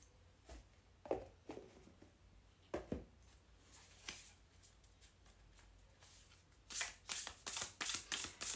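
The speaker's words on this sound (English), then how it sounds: "the sound of me shuffling" Close, quiet riffling and soft slaps of a deck of cards being shuffled, in irregular bursts that quicken into a rapid patter near the end.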